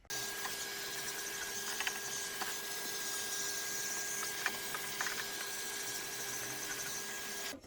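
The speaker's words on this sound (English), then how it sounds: "Let's gently vacuum it and brush it out then" A vacuum cleaner runs steadily while cleaning out the inside of an old Eland MIG 200 welder, a constant whining drone with faint ticks and rattles of debris being sucked up, no talking.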